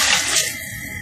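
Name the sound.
water being poured into a cooking pot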